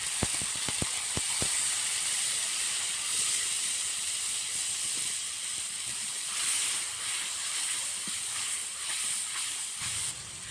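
Spice-rinse water poured into a hot pan while cooking vegetarian cauliflower curry gives a strong, steady hiss that lasts throughout, with a few soft clicks near the start.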